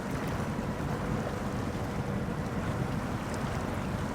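A telehandler in SnowRunner plunging into water, a dense continuous rush and churn of water with engine rumble underneath, steady and loud with no talking.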